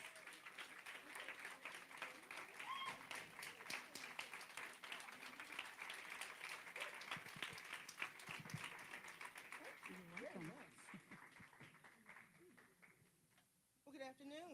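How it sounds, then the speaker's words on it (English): A crowd applauds steadily at a women's empowerment brunch, a dense rattle of many clapping hands that fades toward the end as a speaker begins to talk. "Please give her a round of applause,"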